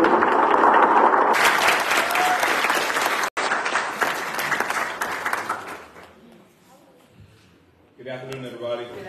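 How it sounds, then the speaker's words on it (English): Audience applauding a girls' basketball team at an Elizabeth City State University event, loud sustained clapping from a crowd that gradually fades out, followed by a voice speaking. "Give them a round of applause."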